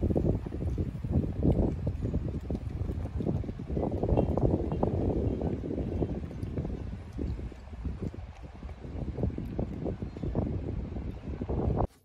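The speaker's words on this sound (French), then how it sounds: "aujourd'hui, c'est gris et il y a du vent." Gusty wind on a grey day in the Var, with blustery microphone buffeting and rumbling that rises and falls continuously throughout and cuts off sharply at the end.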